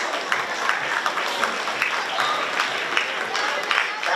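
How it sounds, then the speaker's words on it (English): Audience at a 12th grade commencement ceremony applauding, a dense, steady crowd clapping with scattered cheers and voices underneath. "Give them a big round of applause."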